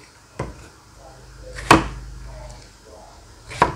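A knife cuts through an eggplant on a cutting board as green curry is prepared, with three sharp, separate chops: one faint, then two louder, against quiet kitchen room tone.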